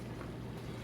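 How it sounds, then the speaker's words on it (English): Homemade strawberry jam at a rolling boil in a pot, giving a steady, close, low bubbling rumble with no talk over it. "it's doing a rolling boil again"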